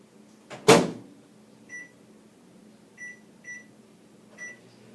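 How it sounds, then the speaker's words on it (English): A microwave oven warming honey: a sharp door clunk opens it, then a low steady hum runs under a series of short electronic beeps spaced across the seconds, quiet and close in a home kitchen. "I put it in the microwave probably 15 seconds"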